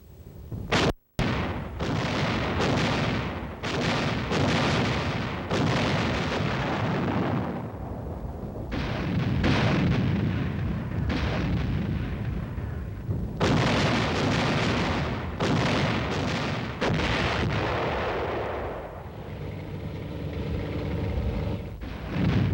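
Field artillery fires in action, heavy booming blasts and rumbling reports following one another in an irregular barrage for over twenty seconds, loud and continuous with no speech.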